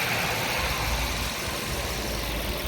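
A Volkswagen Passat B7 engine idles steadily and evenly with a constant low rumble and hum, close by, with no voices.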